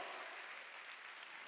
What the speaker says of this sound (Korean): 박수 치고